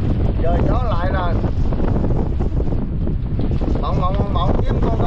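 Strong wind roars steadily into the microphone aboard a small fishing boat at sea, with rushing water and faint voices woven underneath.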